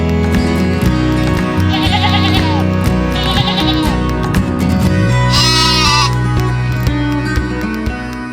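Sheep bleat repeatedly in a loud, crowded chorus, overlapping calls rising and falling above a steady low rumble, as at a livestock export inspection facility, with no talk.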